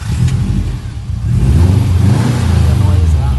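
Subaru Impreza STI wagon with a stage tune fires up and its engine settles into a loud, steady, rumbling idle with a slight rise in revs, close by.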